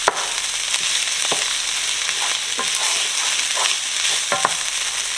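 Ground beef and flour cook in a pan for cheesy ground beef overstuffed potatoes, giving a steady, close sizzle with intermittent scraping stir sounds and no talking.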